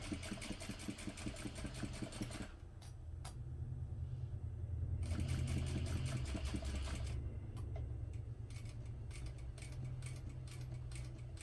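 A sewing machine stitches a clutch seam in rapid rhythmic bursts, pausing between runs, with a few slow isolated needle strokes from hand cranking, close and fairly quiet.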